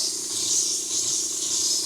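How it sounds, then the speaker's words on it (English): A steady, loud hiss of steam blasts into a Mr. Coffee coffee maker during cleaning, continuous with no pauses. "Steam this bad boy clean"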